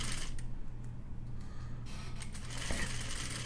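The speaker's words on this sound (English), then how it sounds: "Now I'm going to continue sewing the rest of the seam at that same stitch." Sewing machine running steadily while stitching a railroad zipper seam, a continuous low mechanical hum with faint rhythmic needle ticking throughout, moderately quiet and without talk.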